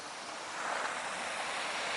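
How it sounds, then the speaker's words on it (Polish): Steady rushing water, a continuous broad hiss of a small cascade close by, with no other sounds standing out. "Fajny mini wodospad na naszej drodze się pojawił."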